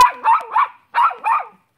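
A dog barks four times up close, loud sharp barks in two quick pairs separated by a brief pause, near water.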